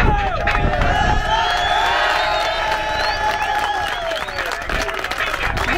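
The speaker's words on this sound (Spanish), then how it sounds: "Un aplauso para ustedes." Audience applause with cheering from a crowd after a band's live performance, a dense, sustained wash of clapping and shouts throughout with voices mixed in.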